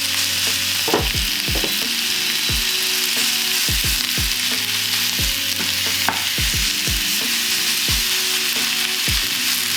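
Vegan beef-style mince fries in a pan under a constant loud sizzle, while a utensil scrapes and knocks against the pan bottom in repeated strokes as the mince is broken up.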